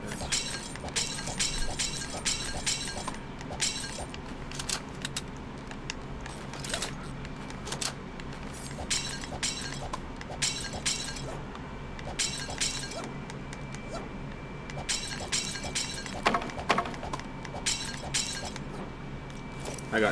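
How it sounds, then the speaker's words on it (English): Jars smash and shatter in a hamster-ball video game, repeated crisp bursts of breaking glass in quick clusters over a steady mechanical game background. "smashed up these jars"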